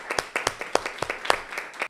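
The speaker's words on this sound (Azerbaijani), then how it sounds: "Alqışlayaq müəllimləri." An audience gives the teachers a short round of applause in a studio setting. The claps come as distinct, fairly close bursts in an uneven rhythm for about two seconds.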